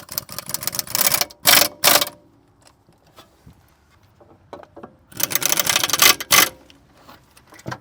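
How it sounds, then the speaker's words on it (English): A 7/16 socket is turned to thread a spark plug into a 2015 Mercedes engine, heard as loud bursts of rapid metallic ratcheting clicks in two main runs, separated by a quieter stretch with sparse clicks. "I like to take the socket, 7/16 socket, and just turn it a couple times and make sure the threads catches"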